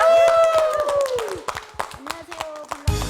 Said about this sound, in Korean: 여러분 자, 박수로 무대로 한번 모시겠습니다.